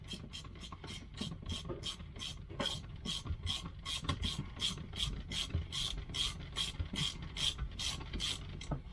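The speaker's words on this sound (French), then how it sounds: "il va me falloir une vraie clé de 8" An 8 mm wrench ratcheting on an RC car part during a double-disc brake install, a fast, regular train of crisp clicks close up, alone without speech.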